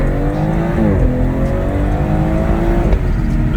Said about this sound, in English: One thing about an all-wheel drive car is you can punch it way too early into a turn.